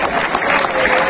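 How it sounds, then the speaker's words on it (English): Audience applause for a group president at a shipboard gathering, a steady dense clapping that fills the whole moment with no break. "we'd like to continue those hands of applause right now for our wonderful group president"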